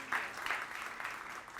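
A church congregation applauds, a short burst of dense clapping filling the space, steady and moderately loud with no voices standing out.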